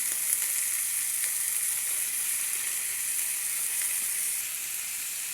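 Onions sizzle steadily in hot oil alongside bitter gourd in a pan, a bright, even frying hiss that holds at constant loudness without pauses or voices.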